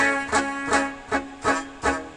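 Five muffled, dull guitar chords strummed in a steady rhythm, each with a short buzzy attack that fades quickly.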